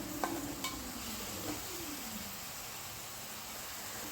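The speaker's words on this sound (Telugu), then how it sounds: "ఈ ఉల్లిపాయ పేస్ట్ని కలుపుతూ వేయించుకోవాలి" Onion paste frying in a pan while being stirred for a fish curry, a quiet, steady sizzle with a few faint spoon scrapes near the start.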